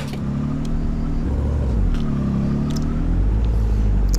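Car engine driving in the mobile game Grand Criminal Online, a steady mid-low rumble with shifting engine tone that rises and falls, loud and continuous throughout with no voices.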